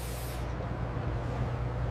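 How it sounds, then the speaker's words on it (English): Spray paint hisses through a stencil in one loud, continuous, broadband rush that does not let up, with no talk over it. "Okay, start the spray pattern now."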